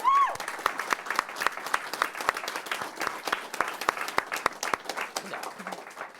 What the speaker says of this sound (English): can we just get a big round of applause for Tessa's mom, too